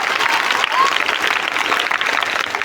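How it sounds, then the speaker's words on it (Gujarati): A school audience applauds at a Guru Purnima celebration in a Mehsana primary school, dense, close clapping from many hands that holds steady throughout. "ચાલો બધા જ ફરી એનો તાળીઓથી ગડગડાટથી વધાવી લઈશું"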